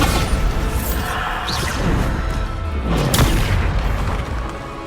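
Bombarda blasting spell explosions in Hogwarts Legacy on PS5, a dense run of loud booms and crashing blasts with whooshing bursts, one especially sharp crack near the end, no talking over it.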